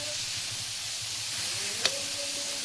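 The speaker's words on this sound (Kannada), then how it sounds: "ಆ ಹಂಚೊಳಗೆ ಸ್ವಲ್ಪ ಎಣ್ಣೆ ಹಾಕಿಬಿಟ್ಟು ಈ ಹಾಗಲಕಾಯಿ ಪೀಸ್ಗಳನ್ನು ಹುರ್ಕೊತೇನೆ ರೀ." Bitter gourd pieces fry in a little oil in a pan on a stove, giving a steady, close sizzling hiss with one brief crackle.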